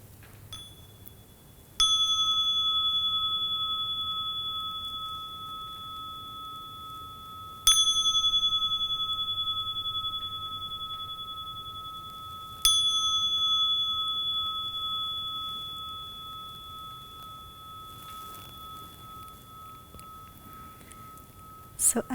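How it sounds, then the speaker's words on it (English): A meditation bell is struck three times at long, even intervals, each ring clear and bright, then decaying slowly into quiet. "And I'll invite the bell for us to begin."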